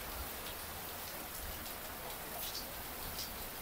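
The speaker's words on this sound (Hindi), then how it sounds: "बारिश बहुत सख्त हो रही है" Heavy stormy rain pours down steadily in Mirpur, a dense, even hiss of drops across the whole span, loud and close with no break.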